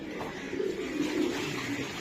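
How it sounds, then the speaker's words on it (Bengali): Iranian highflyer pigeons coo softly in a loft, a few low murmuring calls close by over a steady background hiss. "ইরানি ইরানি হাইপ্লার কবুতর"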